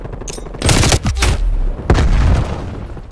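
Gunfire and a thrown grenade in Call of Duty Black Ops Cold War, with two loud bursts of close gunfire and booming impacts, each lasting about half a second to a second, separated by a brief pause.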